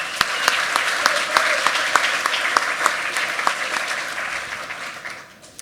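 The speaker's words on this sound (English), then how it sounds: "Let's give them a round of applause" An awards ceremony crowd gives the sponsors a round of applause, sustained steady clapping with a few sharp individual claps standing out, tapering off over the final second.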